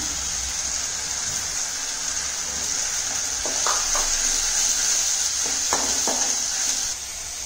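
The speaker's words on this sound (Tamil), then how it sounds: "இப்போ நம்ம வந்து அரைச்சு வச்ச வெங்காய மசாலா போட்டுடலாம். இது நல்லா பச்சை வாசனை போகிற அளவு வதக்கிடலாங்க." Ground onion masala sizzling steadily in hot oil in a pan for chole, a continuous bright hiss with a few soft scraping stirs partway through, close and even, with no talking.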